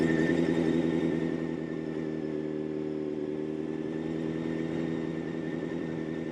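A motorcycle idles and putters at low speed while riding tight slow circles, its engine a steady, moderately near drone with a slight rise at the start, then holding even without talk.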